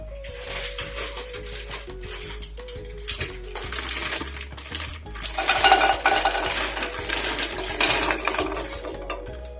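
A wooden spatula scrapes and clatters against a pan of hard, frozen strawberries in uneven strokes, with sizzling and clinking kitchen sounds, fairly close and steady, while making strawberry jam.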